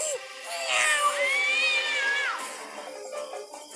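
An angry cat lets out a long rising and falling yowl, loud and close, fading into faint background noise afterward.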